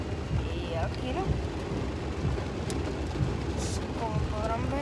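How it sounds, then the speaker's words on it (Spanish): Hail falls steadily during a storm in Mexico City, a dense continuous patter and rattle on surfaces throughout, with occasional brief voices in the background. "sí está cayendo granizo"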